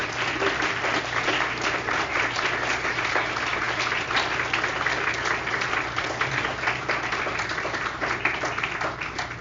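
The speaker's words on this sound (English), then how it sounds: "Let's give them a round of applause." A seated audience gives a steady round of applause, a dense wash of many hands clapping at even loudness throughout, with no talk over it.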